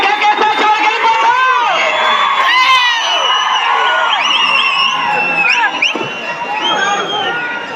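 Crowd at an outdoor contest cheering and shouting, a dense mix of many voices with whoops and yells rising and falling, loud and continuous throughout.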